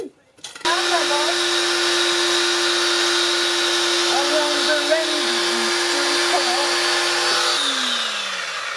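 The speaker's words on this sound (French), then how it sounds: "Mais c'est nul de poncer en fait." Power sander running steadily on wood for a homemade cat tree, a loud, close, continuous whine that starts abruptly, holds for several seconds and then winds down, with people talking over it.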